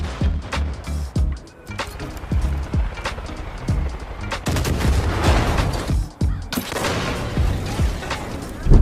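Repeated booming blasts and crackling gunfire-like bursts from destruction in the game The Finals, where structures and vehicles collapse amid fire and smoke, forming a dense, continuous barrage of explosions with a heavy rumbling low end.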